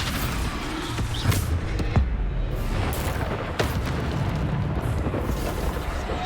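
Repeated Bombarda spell blasts in Hogwarts Legacy, booming explosions with sharp pops over a constant loud roar of battle effects, with no pause between them.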